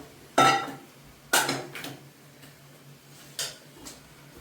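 Jackfruit and potatoes tipped into a cooking pot for a spiced curry: a few sharp metallic clanks and scrapes of utensil against pot, spaced out with quiet gaps between.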